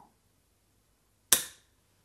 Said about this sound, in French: quand on active la sûreté, ça va pousser ce levier-là qui va relâcher le marteau